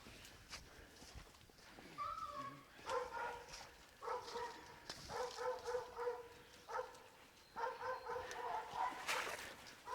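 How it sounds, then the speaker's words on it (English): Hunting dogs tied to a tree bark repeatedly in bursts during a rainy hog hunt, sharp yelps and barks carrying at moderate distance over outdoor rain and rustling. "Them dogs tied to the tree, still having a blast in there."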